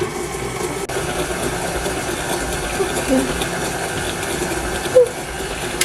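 A KitchenAid stand mixer with its paddle attachment beats cream cheese and sugar, giving a steady low motor whir that runs continuously throughout at moderate level.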